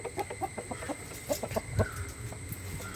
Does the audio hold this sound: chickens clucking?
yes